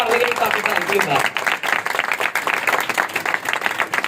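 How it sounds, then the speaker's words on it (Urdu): Church congregation claps during a Sunday service, broadband applause running throughout, with a voice audible at the start. "اور زوردار تالی مارا کرو کہ تالی مار لگے"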